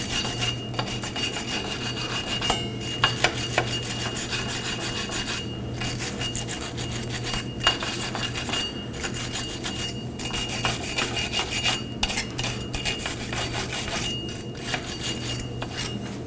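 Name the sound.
wire brush cleaning drum brake hub mating surface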